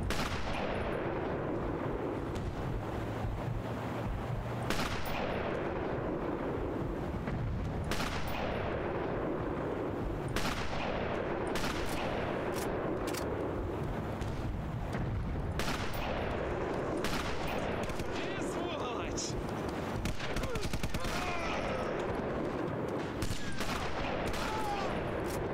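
Sniper rifle shots in Sniper Elite crack out at spaced intervals, each one a sharp report over a constant rumbling ambience, with someone talking now and then between them.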